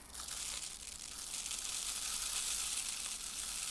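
Red rice pouring into a sensory bottle makes a steady, dense hiss of grains rattling and trickling against plastic, continuous and fairly close for the whole stretch, with no talking.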